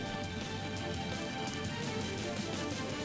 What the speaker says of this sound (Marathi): पावसानं आज अनेक ठिकाणी दमदार हजेरी लावली